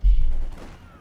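A short, loud burst of machine gun fire from the World War II strategy game Company of Heroes 2, a low booming rattle that fades out within half a second.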